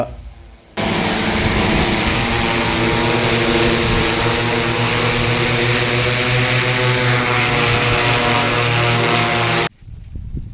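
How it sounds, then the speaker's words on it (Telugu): An agricultural spray drone applying nano urea over a village field hums loudly and steadily with a high propeller whine, starting abruptly and holding constant for about nine seconds before cutting off. "డ్రోన్ ద్వారా నానో యూరియా పిచికారిపై క్షేత్రస్థాయి ప్రదర్శన నిర్వహించారు"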